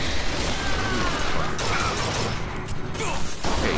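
Shotgun blasts and gunfire in the video game Bioshock Infinite, several loud sharp bursts with mechanical clatter and crashing debris amid dense in-game combat noise.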